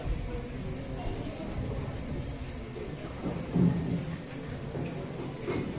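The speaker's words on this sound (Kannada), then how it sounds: "ಮಳೆ ಬಲವಾಗಿ ಸುರಿಯುತ್ತಿದ್ದರಿಂದ" Heavy rain pours down steadily, joined by a low, rolling rumble of thunder that swells near the middle. The wash of sound is dense and continuous, with no voices.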